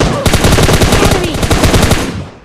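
Loud rapid automatic gunfire from a Thompson submachine gun in PUBG Mobile Lite, a dense burst of evenly spaced shots running for about two seconds before cutting off.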